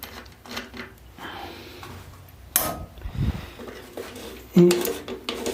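Nut being unscrewed from a dirty bicycle freewheel with a tool: intermittent metallic scraping and rubbing, a couple of sharp clanks and a brief ringing tap, close by.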